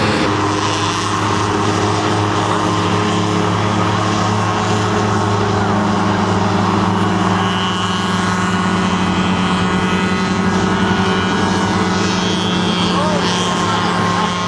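Universal Hovercraft UH-13PT racing hovercraft, the University of New Hampshire machine having trouble on a race course, its engine and propeller giving a loud continuous droning hum with steady tones while a commentator talks over it.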